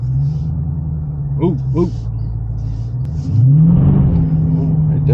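Deep rumbling exhaust of a 2023 Dodge Challenger SRT 392 Scatpack in sport mode, heard from inside the car, climbing steadily as it accelerates under a passenger's excited exclamations.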